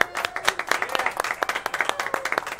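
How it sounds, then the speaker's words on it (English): A small audience at a local talk-show event claps for the co-host, with distinct individual hand claps in a brisk, uneven rhythm that stay close and clear. "Let's have a round of applause for this young lady"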